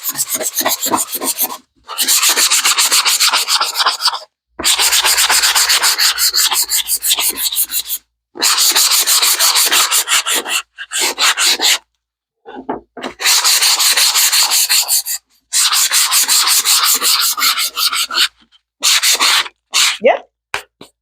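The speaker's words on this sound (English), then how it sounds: "Got some sandpaper right here. This is a P80 grit. It's pretty rough." A wood panel is sanded by hand with coarse P80 grit sandpaper, producing loud, close, rhythmic scratching strokes in repeated bursts separated by short pauses.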